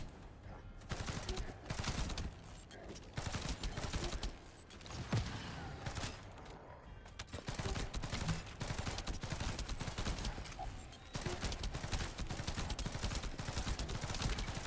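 Rapid gunfire from the tactical rifle Secret Garden in the video game The First Descendant, repeated bursts of sharp shots in steady runs with brief pauses, moderately loud game audio.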